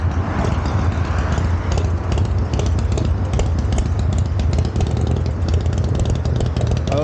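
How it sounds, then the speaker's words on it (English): A noisy motorcycle engine rumbles loud and close in a low, steady drone with a faint rhythmic knock, running the whole time with no voices. "Wait for Mr. Noisy Bike to leave."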